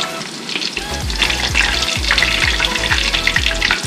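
Ono fish pieces fry in a pan just after being flipped, a loud, dense, close sizzle with crackling spatter throughout and no talking.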